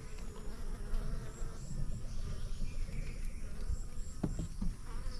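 A dense, continuous buzz of many honey bees hums steadily around a queenless hive, close and fairly loud, with no talking.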